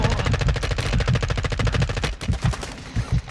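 Rapid automatic gunfire from Call of Duty Modern Warfare, a dense stream of close, loud shots continuing throughout with brief uneven bursts near the end.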